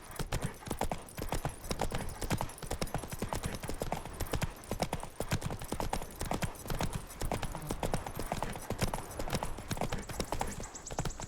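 Even, rhythmic hoof clops of the horse Roach trotting in Witcher 3, close and regular throughout, with a little speech faintly underneath.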